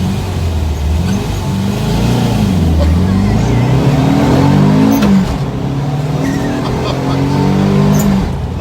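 A 200 hp turbocharged Volkswagen bus engine roars and climbs hard through low gear, loud and close, with a rising, strained growl throughout.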